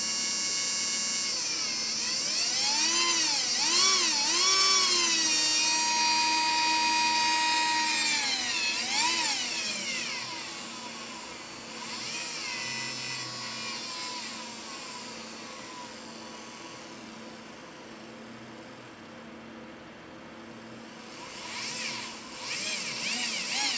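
A rebuilt electric motor runs in reverse with a loud, steady whine whose pitch swoops up and down as the speed changes, then settles and fades toward the end.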